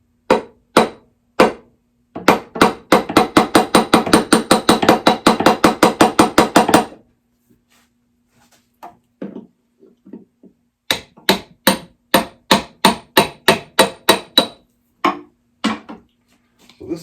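A hammer strikes repeatedly to drive out a rocking chair tenon on an antique chair: sharp, loud wooden knocks, first a few spaced blows, then a fast steady burst, a pause with faint handling noises, then another run of hits.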